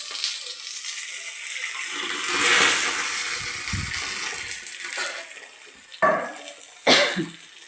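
Water poured into a pan of chilli eggplant curry gives a steady broadband rush with a louder surge midway, then two sharp splashy bursts near the end; no one speaks.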